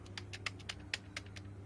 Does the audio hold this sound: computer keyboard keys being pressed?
yes